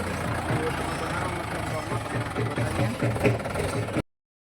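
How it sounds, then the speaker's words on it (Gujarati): A tractor engine runs with a low, steady rumble and chugging throb, close and continuous, then cuts off abruptly just before the end; voices are faintly mixed in. "આપણે ટ્રેક્ટર પ્લાવ છોડી દીધા છે અને બીજો ટ્રેક્ટર જોડી દીધા છે"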